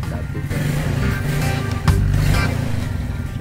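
A Suzuki New Smash 110 (2006) motorcycle engine runs steadily in first and second gear with a low, throbbing hum and a slight rise in revs partway through, while a person talks over it.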